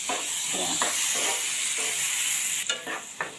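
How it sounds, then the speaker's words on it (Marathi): Chopped tomato and onion sautéing in oil in a pan give a steady sizzle and hiss, broken by scraping stirs of a spoon against the pan, close and fairly loud. "आता हे चांगलं आपण मिक्स करून घेऊया परतून घेऊया"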